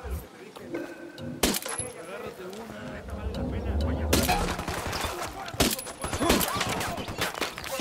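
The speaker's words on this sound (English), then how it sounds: "Looks like we just rolled up on a firefight between the cartel and the rebels." Firefight gunfire in the tactical shooter Ghost Recon Wildlands, cartel against rebels: sharp shots and bursts of automatic fire, some near and some distant, mixed with metallic clatter over a steady noisy backdrop, with people talking throughout.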